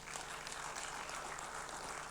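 A church congregation at a Sunday service at GLOW FC Seasons City claps in a dense, even patter of applause, steady and fairly soft, with no voices over it.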